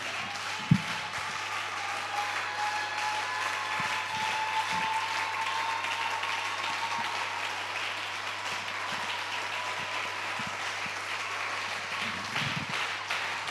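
A church congregation applauding for the glory of God, a steady dense wash of clapping and cheering that carries on without a break for the whole stretch, fairly distant and even in level.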